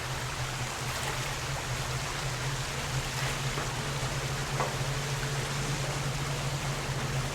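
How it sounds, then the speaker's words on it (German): A waterfall in the video game The Alien Cube roars as a steady, dense rush of falling water, constant and fairly loud, with no voices over it. "Also Wasserfall."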